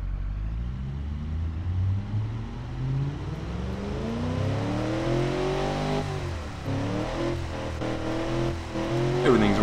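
A Japanese cross-plane V8 on a single exhaust in the Automation game revs up and down repeatedly, a loud rising and falling engine drone with sweeping pitch changes and a sharp climb near the end.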